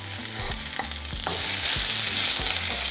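Serrano chile and chopped onion fry in hot oil in a pan, giving a soft continuous sizzle broken by a few stirring scrapes and taps, close and fairly quiet, with no voices.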